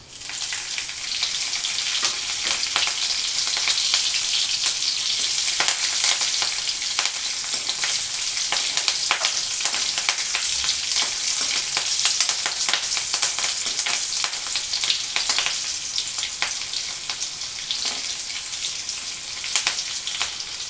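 Green chillies fry with cumin seeds in hot oil in a pan, giving a steady, close, crackling sizzle that continues throughout with small pops and spits.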